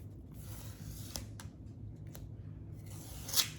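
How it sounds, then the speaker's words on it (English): Tape peels away from a painted pumpkin doorhanger in a few short, quiet ripping pulls over a low background hum, closing with one slightly louder tear. "let me take this tape off"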